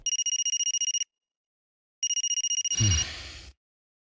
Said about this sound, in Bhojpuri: फोन की घंटी जा रही है।